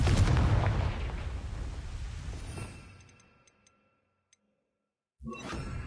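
A Confringo blasting spell in Hogwarts Legacy erupts in one loud, rumbling blast that decays over several seconds into near silence, with faint ticks. Then another burst hits abruptly.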